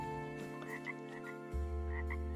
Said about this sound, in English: I love the sound of the frogs in here.